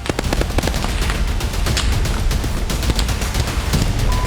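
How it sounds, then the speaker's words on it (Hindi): Sustained gunfire in an exchange between soldiers near Robotyne, Ukraine, with rapid overlapping shots and bursts, dense cracks and booms continuing without pause, no voices. "यहां सैनिक एक दूसरे पर गोलियां बरसा रहे हैं"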